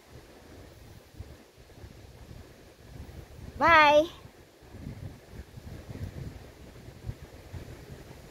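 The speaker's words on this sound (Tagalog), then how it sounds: "Lakas ng hangin." Strong wind buffets the microphone outdoors with steady low rumble and gusting noise, broken by a brief sharp high tone midway; people speak over it.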